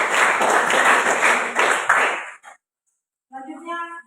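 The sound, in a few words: applause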